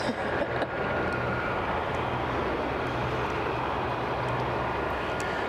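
Steady jet engine roar of an easyJet airliner at Aberdeen airport, a continuous broadband drone with a low hum, fairly close and unbroken, no voices.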